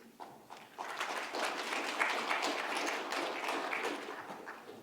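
Audience at a mining exploration conference presentation applauds steadily for about five seconds, a dense even wash of clapping that swells early and tapers slightly at the end.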